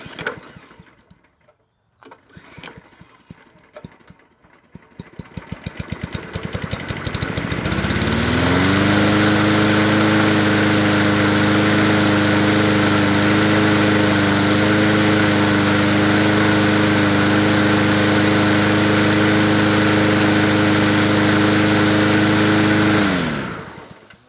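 A Yard Machines 20-inch P510 push mower with a Powermore engine cranks after a few pulls, then roars up to a steady, loud, close-up run for about fifteen seconds before cutting off.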